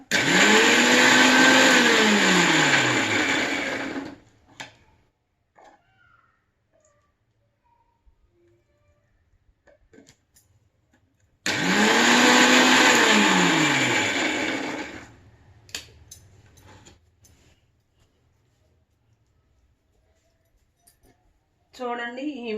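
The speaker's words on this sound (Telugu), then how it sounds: "మిక్సీ వేసుకునేటప్పుడు సన్న ముక్కలైనా కట్ చేసి వేసుకోవచ్చు" A mixie grinder blends green chilli pickle in two loud, close bursts of a few seconds each, the motor whine rising as it spins up. Near-silent pauses with faint handling noises separate the bursts, and a new burst starts at the end.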